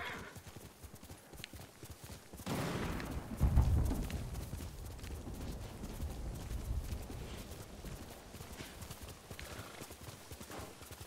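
Horse hooves clip-clopping in Ghost of Tsushima, a steady galloping rhythm with a whinny near the start, moderately close and continuing throughout, with a quiet bit of talk in the game.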